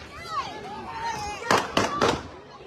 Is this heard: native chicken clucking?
no